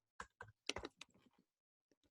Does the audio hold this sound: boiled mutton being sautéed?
no